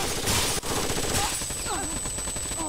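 Video game gunfire in fast bursts that sound like automatic weapons, loud and close, mixed with game effects and some talking.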